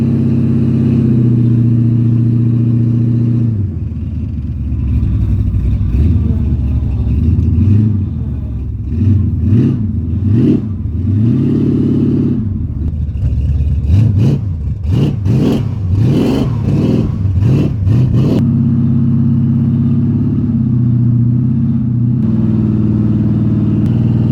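An automatic transmission truck runs a PTO-driven winch as it pulls, its engine droning steadily and surging through repeated revs before settling back to a constant hum.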